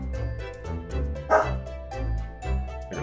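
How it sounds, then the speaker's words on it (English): Repeated dog barking from The Great Ace Attorney Chronicles, a steady run of rhythmic woofs over a low game music bed, with one sharper louder bark in the middle. "Aggro's barking at something."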